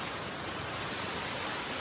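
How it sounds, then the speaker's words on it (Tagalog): Water of Awosting Falls cascading down, a continuous even hiss and roar with no breaks, loud and near. "Ayan na yung falls na galing doon sa taas."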